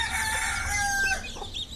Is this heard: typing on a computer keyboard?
no